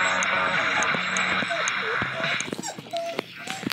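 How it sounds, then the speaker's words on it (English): A grandmother's dog whines in a series of short, high, wavering whimpers mixed into busy shooter game sound effects, fairly near and repeated several times over a few seconds. "Grandma's dog keeps whining."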